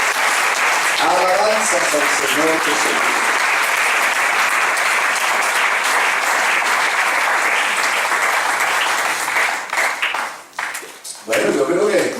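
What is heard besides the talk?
applause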